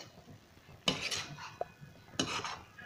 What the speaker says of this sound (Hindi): हम इसको चला देते हैं, थोड़ा ऊपर नीचे कर लेते हैं, मिक्स कर लेते हैं